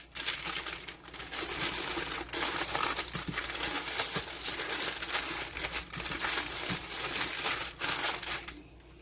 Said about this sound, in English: So I'm gonna roll it in the foil paper.